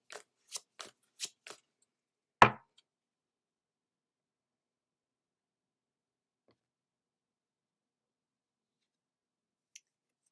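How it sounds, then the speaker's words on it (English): A single card is pulled from a Super Attractor oracle deck by Gabrielle Bernstein, giving a quick close papery swipe after a few light taps, then near silence. "We're going to pull one card from 6 different decks here."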